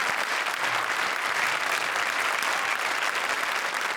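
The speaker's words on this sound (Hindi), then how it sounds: "जोरदार तालियां राजेश और राजीव के लिए।" Steady, loud applause from a comedy show studio audience claps continuously throughout, a dense even patter with no pauses.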